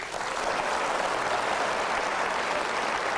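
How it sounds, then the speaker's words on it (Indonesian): Studio audience at an insurance industry evening show claps together, a loud, dense and even wash of applause sustained throughout with no one speaking over it. "Berikan tepuk tangan sekali lagi"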